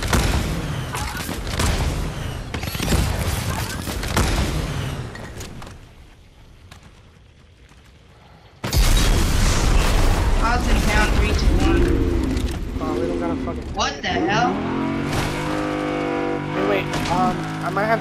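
Gunfire and explosions in the video game Fortnite, loud dense bursts and booms with engine-like roars, a brief quieter stretch midway, overlapping continuous game sound.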